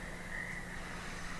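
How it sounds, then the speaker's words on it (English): Frogs croak near a pond in the video game Last Winter, a steady faint chorus with a sustained high trill over a low background hum. "but you can hear the frogs in the background"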